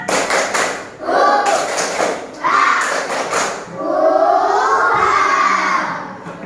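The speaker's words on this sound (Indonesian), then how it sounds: "mari kita tepuk semangat dulu ya, semangat lagi" Children in a grade 3 Indonesian-language classroom perform a rhythmic spirit clap, bursts of patterned claps and thumps in several short rounds, loud and close, with young voices calling out between the claps.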